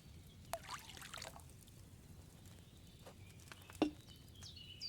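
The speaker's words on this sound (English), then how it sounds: "First, you have to pour the right base into the cauldron." Base liquid poured from a pitcher into an apothecary's cauldron in Kingdom Come Deliverance 2, a faint, brief trickling splash near the start with quiet ambient room noise and a soft knock later.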